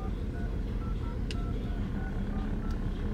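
Telephone keypad dialing tones beep faintly in a short irregular sequence inside a car, half buried under steady engine and road rumble.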